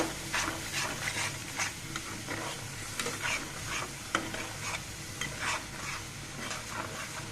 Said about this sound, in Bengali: দিয়ে এরপর যে মশলাগুলোকে আমি নেড়ে দিব